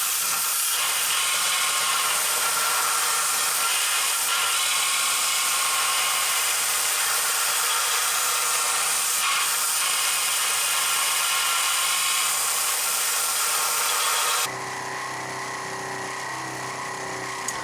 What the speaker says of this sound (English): The belt grinder worked at first well.